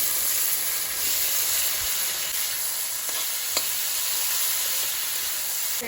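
Chopped banana flower hits a hot pan already holding spices and sizzles in a steady, loud hiss that goes on throughout, with a few soft stirring scrapes and no talking.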